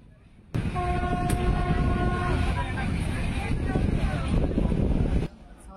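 The Shalimar–Puri Dhauli Express rumbles steadily after pulling out of Cuttack Junction, its horn sounding in a long sustained tone near the start over continuous wheel and carriage noise.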